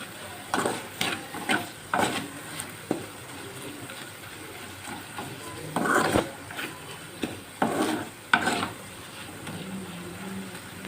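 Sliced onions coated in garlic chili paste are stirred in a pan, with intermittent scraping strokes of a spoon over a soft background sizzle, in irregular bursts separated by quieter gaps.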